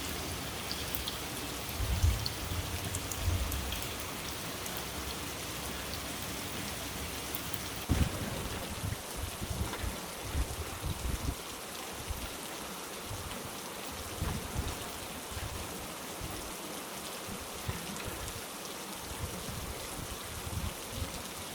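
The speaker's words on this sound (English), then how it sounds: "It's a rainy day, Gilly." Steady rain patters on a truck in South Carolina, a soft, dense hiss with scattered heavier drops and occasional thuds. It is even and continuous throughout, with no voices.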